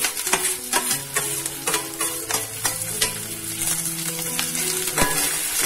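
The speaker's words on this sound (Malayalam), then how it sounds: "ഇതിലേക്ക് നമ്മള് അരിഞ്ഞു വെച്ചിരിക്കുന്ന സവാളയും പച്ചമുളകും വെളുത്തുള്ളി ഇഞ്ചി ഇതൊക്കെ സാധനങ്ങൾ ഇട്ട് കൊടുത്ത് വഴറ്റാൻ പോവാണ്" Chopped onion, green chilli, garlic and ginger sizzle steadily in a hot pan while a spoon stirs and taps against the metal in a loud, close rhythm, with no talking.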